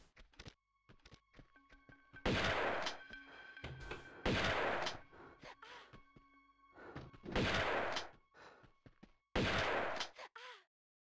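Gunfire in a Tomb Raider level editor game, with four loud sustained bursts of automatic fire separated by lighter clicks and thuds, fairly close and without talk.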